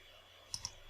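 Two quick, faint computer mouse clicks land close together while setting a take-profit level on a trading chart, set against a quiet room background.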